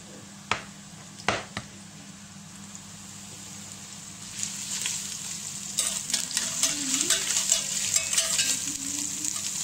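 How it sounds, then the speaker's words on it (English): Fresh ginger frying in a wok for a Chinese-style chicken dish, a steady close sizzle with a few sharp taps early on, growing louder and busier with crackling toward the end, no talk. "So you want to fry that for a few minutes."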